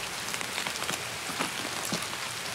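Rain in the shooter Escape from Tarkov, a steady hiss of drops pattering on surfaces with scattered sharper taps, soft and even with no voices.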